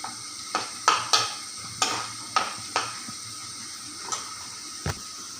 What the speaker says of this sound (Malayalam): വെളുത്തുള്ളിയൊക്കെ ഒന്ന് ഒരു വിധം വഴന്നു.